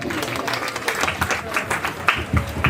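Audience applause at a family gathering: a steady wash of clapping from many hands that holds at an even level for nearly three seconds, with a few sharper claps standing out near the end.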